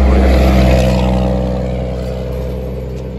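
Loud, close roar of vehicles rushing past on a highway in Jalisco, Mexico, a broad engine and road rumble that slowly fades as a car pulls away, with no talk.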